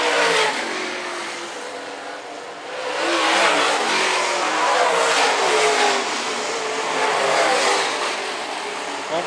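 Late model race cars roaring on the dirt oval at Phillips County Raceway, engines rising and falling as they pass down the front straightaway at medium distance, loud and continuous without talk.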